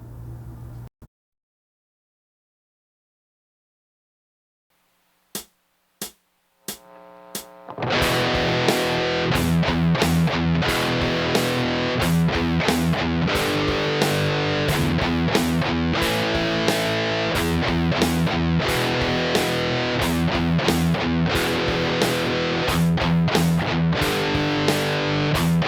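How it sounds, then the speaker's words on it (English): Heavy rock palm-muted electric guitar, thick with distortion, chugs at 90 BPM: a few isolated picked notes after a silent gap, then a steady, loud run of choppy muted chords, close and alone. "For a heavy rock sound, place your palm as close to the bridge as possible. Here it is with a tempo of 90 BPM."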